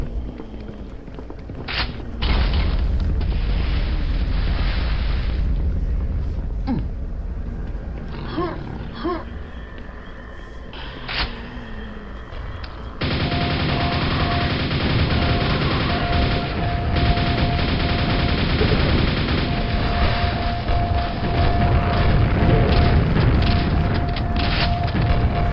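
Grenades from an ogre in Quake burst one after another in a loud, rumbling barrage with dense booming blasts, the din thickening and staying heavy through the second half.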